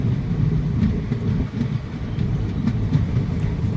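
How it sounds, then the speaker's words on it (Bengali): Teesta Torsa Express rolling along after leaving NJP in thick fog, a loud, steady low rumble of wheels and carriages with faint rhythmic clatter, heard from inside the train without voices. "এনজেপি থেকে ট্রেন ছেড়ে দিয়েছে"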